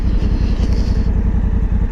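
A Yamaha Tracer 9 GT motorcycle accelerating hard on a bumpy road, its engine a steady, loud, close throbbing drone with rapid pulsing firing beats, filling the whole moment without speech.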